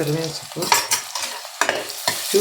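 Onions frying in a pan for vegetable fried rice, a sizzle broken by several quick scraping stirs of a spatula, close and with no talking.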